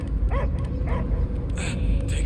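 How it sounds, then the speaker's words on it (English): Dog barking and yipping in the Guardians of the Galaxy video game, a few short barks over a loud, dense game soundscape with low rumble throughout. "I hear only barking"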